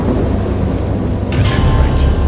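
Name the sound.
thunderstorm in the video game Dagon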